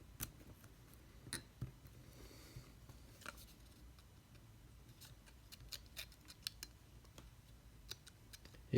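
Faint, sparse snips and ticks of blades cutting printed paper model parts free, scattered irregularly over quiet room tone with no talking.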